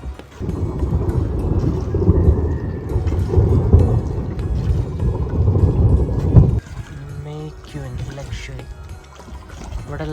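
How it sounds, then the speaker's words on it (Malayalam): A low, rumbling roll of thunder over Dal Lake in Srinagar, Kashmir, builds and swells beneath steady wind and water noise, then cuts away to quieter ambience with a voice. "മിന്നലൊക്കെ എറിയുന്നുണ്ട് കേട്ടോ ഇടി വെട്ടുന്നുണ്ട്"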